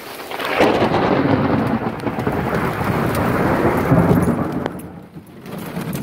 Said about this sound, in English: It's a little rainy, a little thunder.